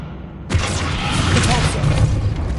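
Descendo spell cast in Hogwarts Legacy, a sudden loud booming slam with a rumbling, crackling tail that sustains for about two seconds.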